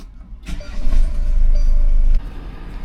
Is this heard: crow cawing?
no